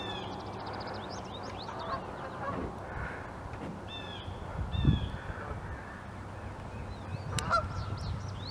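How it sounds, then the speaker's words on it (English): Geese honk on the water, several calls scattered across the stretch at moderate distance, alongside a few harsher caw-like cries over quiet outdoor ambience. "It's a goose."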